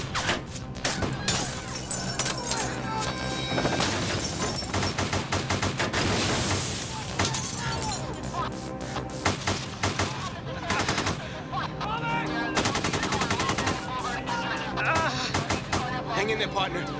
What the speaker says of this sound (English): What you hear behind me is not coming from the movie set. It is actual gunfire.